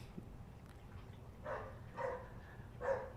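A dog barks nearby in three spaced bursts, moderately loud over a steady low background hum.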